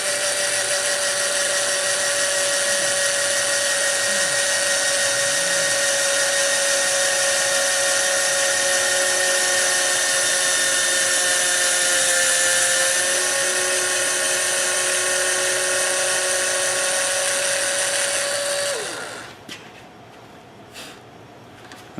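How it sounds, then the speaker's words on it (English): A small hole is drilled into a hollow wooden Christmas ornament on the lathe, giving a steady, loud, high whine that holds for about nineteen seconds and then cuts out abruptly, leaving quiet. "we're going to drill that little hole in there like so"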